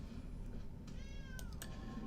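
A cat meows twice as a Twilight Panther card is played in MTG Arena, two short bright mews that stand out over a low, steady game background hum, with no talking.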